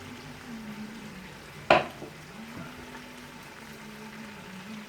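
A utensil strikes and scrapes once against a browning pot of Samoan chop suey, a single sharp clank over a low steady sizzle, with a faint hum running underneath.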